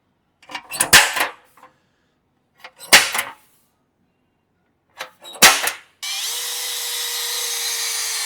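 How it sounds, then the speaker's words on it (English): A power drill boring holes in a vehicle body in preparation for rivet nuts, heard as three short close bursts spaced a couple of seconds apart, followed by a steadier, continuous run of noise. "We got to drill some holes"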